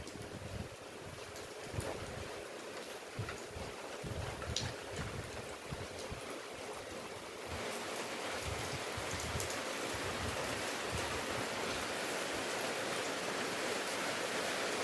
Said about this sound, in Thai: ฝนตกแดดเลยพี่น้องเลย